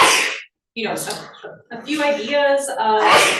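A single sharp sneeze during a Hartford selectboard meeting, loud and close, after which a person carries on speaking.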